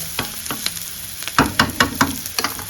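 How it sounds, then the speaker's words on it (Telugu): Chicken pieces frying in a pan, a homemade chicken starter, with repeated loud scraping stirs and clinks over a steady sizzle, irregular strokes close by and no talking. "చూసారా ఎంత బాగా వేగుతుందో"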